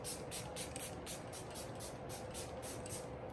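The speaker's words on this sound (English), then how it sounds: "And just spray it around" A bottle of makeup setting spray is pumped about a dozen times in quick succession, each short misting hiss following the last in a steady rhythm, soft and close.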